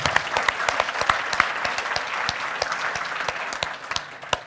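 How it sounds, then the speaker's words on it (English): A small group claps with distinct, sharp individual hand claps standing out from a brisk wash of applause, lasting a few seconds and tapering slightly toward the end. "So, round of applause."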